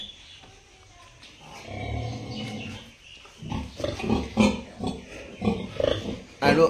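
Pigs on a pig farm drink from a nipple waterer, with busy slurping, snuffling and grunting that grows louder and more uneven toward the end, mixed with farmyard noise and a faint voice.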